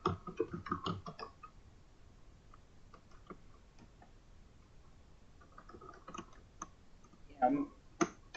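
Typing on a computer keyboard, with quiet scattered key clicks close by, busier at the start and again near the end, and no voices.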